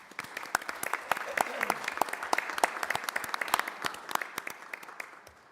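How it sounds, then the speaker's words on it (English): At a city council meeting, a modest group claps in a round of applause: sharp, distinct hand claps, fairly close and moderately loud, continuing throughout before tapering at the end. "So how about a round of applause for Kimley?"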